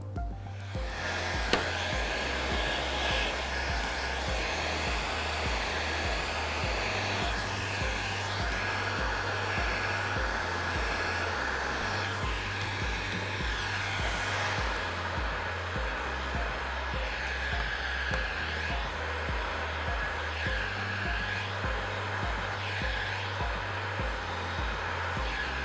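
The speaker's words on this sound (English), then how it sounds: "Now I'm going to go back to the conventional heat and card shrinking in my rows" A heat gun shrinking 3M ceramic IR tint film on rear car glass blows with a continuous loud whirring roar, held about two inches from the glass, steady throughout with slight shifts in pitch.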